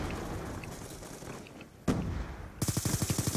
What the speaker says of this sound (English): fuck your damn light machine gun